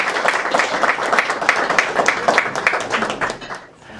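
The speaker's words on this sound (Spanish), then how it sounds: "les pido un aplauso para Guillermo" An audience at a Q&A event claps in a steady burst of applause for several seconds, then it fades out.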